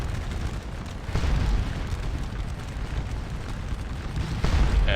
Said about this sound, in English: you can see we're just starting to earn points by the boatload with this artillery here